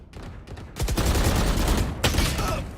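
Dense bursts of video game gunfire crackle in a near-continuous rapid volley, loud and sustained, with a brief pause before another heavy barrage.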